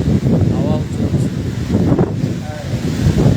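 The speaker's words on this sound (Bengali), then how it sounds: "এবার হাওয়া চলছে, প্রচুর হাওয়া চললে মেঘ কেটে যাবে।" Strong wind blows outdoors during rain, buffeting the microphone in low, uneven gusts. A person appears to be talking under it.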